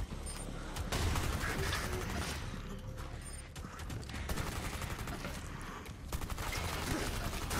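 Gunfire in the video game Rainbow Six Extraction, with dense bursts of rapid shots and mechanical clatter running nearly continuously and loudly throughout.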